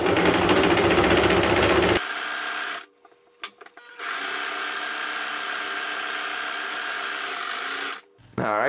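A sewing machine stitches an apron in loud, close, steady runs: a fast buzzing stretch, a brief pause with small clicks, then a long even whir before stopping again.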